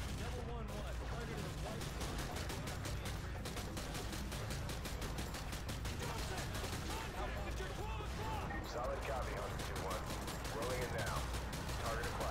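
Dense, continuous gunfire and explosions from the video game Call of Duty: Modern Warfare 2 campaign, a steady loud barrage of rapid shots that runs the whole time without a pause.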